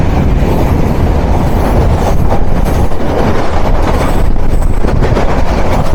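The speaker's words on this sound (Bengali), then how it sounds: "আমাদের দ্বিতীয় ক্রসিং হচ্ছে ট্রেন নাম্বার আটশো দশ আন্তনগর বুড়িমারি এক্সপ্রেস ট্রেনের সাথে" Intercity Burimari Express, train number 810 bound from Lalmonirhat to Dhaka, passing at a crossing; a loud, continuous roar of rail cars and wheels close by, with faint hints of squeal, no voices.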